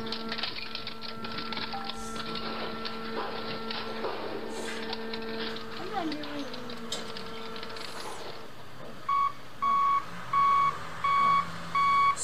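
Car-crushing machinery grinds and hums steadily, then a truck's reversing alarm beeps in a regular series of loud pulses toward the end.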